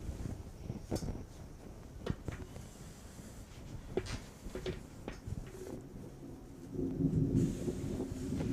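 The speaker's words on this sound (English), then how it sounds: "It is still thundering, but I can see the edge of the clouds." Thunder from a passing storm sounds low and distant, with soft rumbles and a heavier roll near the end under steady wind noise.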